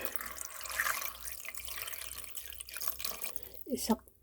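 Water poured from a measure into a pot of spicy Korean braised chicken (dak-bokkeumtang) holding boiled chicken pieces, a soft trickling and dripping splash near the pot, with a person talking over it.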